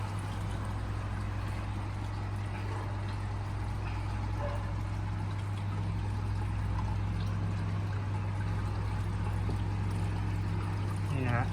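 Water overflows and pours steadily into an aquarium sump filter, with a pump drawing it down below, making a continuous close rushing and trickling wash with a low hum underneath.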